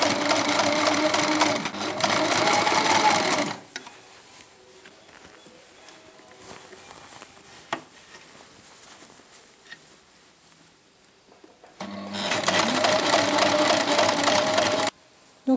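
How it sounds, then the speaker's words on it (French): Sewing machine stitching a fabric muff from a kit about 1 cm from the edge: a close, loud, steady motor whir lasting a few seconds, then a quiet stretch with faint handling noises, then a second equally steady burst. "On va coudre à 1 cm du bord."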